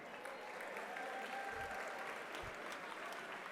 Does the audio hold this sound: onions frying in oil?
no